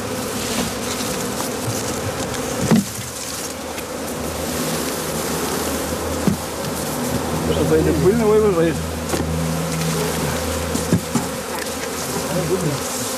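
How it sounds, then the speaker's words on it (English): A dense, continuous buzz of many honeybees swarming into a hive at dusk fills the air, close and loud, with occasional faint voices and thumps underneath. "As dusk approaches, the bees are introduced to the hive."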